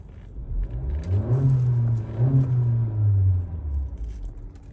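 A warm 2022 Honda Civic Touring 1.5 engine revs up close, rising and falling in a few rumbling surges before settling back toward idle.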